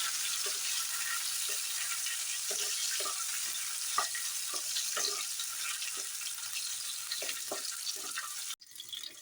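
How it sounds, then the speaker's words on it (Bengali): Soaked cashews and raisins frying in oil in a pan, a soft, steady hiss with scattered small pops and stirring taps, faint and close, ending in a brief clatter. "আগের থেকে ভিজিয়ে রেখেছিলাম কিছুটা পরিমাণ কাজু আর কিশমিশ, সেটা আমি ভেজে নেব"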